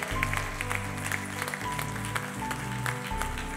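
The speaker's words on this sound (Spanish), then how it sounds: "Dele un aplauso al Señor" A church congregation claps for the Lord during a service, the scattered clapping blending with steady, sustained low keyboard or organ notes that shift pitch a few times throughout.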